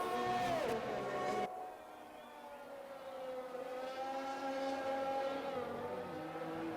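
Engine whine from a Ferrari Formula 1 car in a racing video game, a steady tonal drone that rises and falls slightly as the car runs a lap, fairly quiet and alone.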